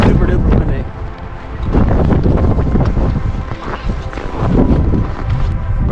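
Strong wind on Mt. Moosilauke buffets the microphone in loud, gusting rushes that swell and ease continuously.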